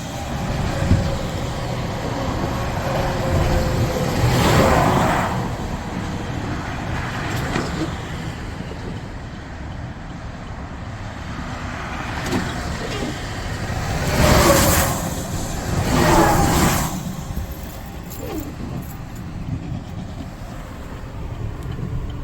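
Road traffic passing along a street, with several vehicles swelling past in waves of broadband rumble and wind-like whoosh, a steady background of engine noise between passes.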